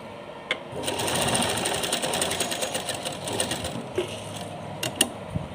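A sewing machine stitches a summer dress for a Laddu Gopal idol, a steady rapid mechanical whir with fast needle chatter for several seconds, close up, followed by a few sharp clicks as the stitching stops.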